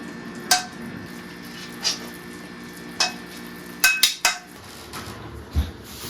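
Pork adobo being plated with white rice: sharp clinks and scrapes of dishes and cutlery ring out at irregular intervals, several close together near the end, with no talk.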